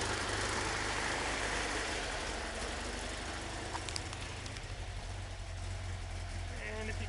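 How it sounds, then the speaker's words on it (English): A 1973 Volkswagen Super Beetle 1745cc engine with a Dellorto carburetor idling too high at about 1400 RPM, a constant close rumble with a faint mechanical rattle and little variation. "it's idling at about 1400 RPM, which is just way too stinking high"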